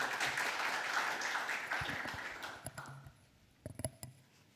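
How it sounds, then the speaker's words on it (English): Applause from a panel discussion audience after the first speaker, a full round of clapping that fades after about three seconds into a few scattered claps and small knocks. "another round of applause for our first speaker"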